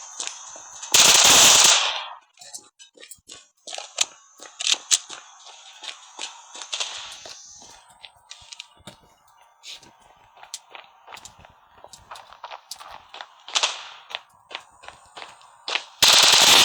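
Gunfire in the Standoff 2 shooting game, with short bursts of shots between 1 and 2 seconds and again at the very end, and scattered clicks and footsteps in between.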